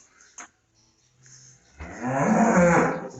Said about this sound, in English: One cow comes in here and she thinks she wants fed right now.